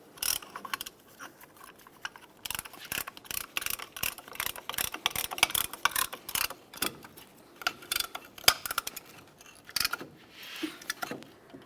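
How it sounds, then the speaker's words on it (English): A caliper compression tool ratchets both front brake caliper pistons back into their bores on a 2002-2009 Chevrolet Trailblazer, giving close, dense bursts of metallic clicking and mechanical ticking that run nearly continuously with brief pauses. "To push both of these in at the same time, I'll be using this caliper compression tool."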